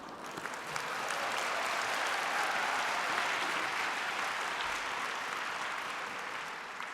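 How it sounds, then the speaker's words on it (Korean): Audience at a university degree conferment ceremony applauds steadily, a dense wash of clapping that swells quickly and holds at moderate loudness for several seconds. "네, 박수 좀 받아도 될 것 같습니다."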